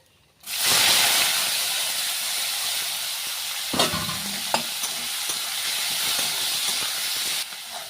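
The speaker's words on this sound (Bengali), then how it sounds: "এখন আমি এখানে এই তেলটার মধ্যে, মাছের তেলটার মধ্যে করলাটা ভাজা করে ফেলবো।" Sliced bitter gourd hits hot leftover fish oil with a sudden loud sizzle that holds as a steady, close hiss, broken by a few stirring clatters.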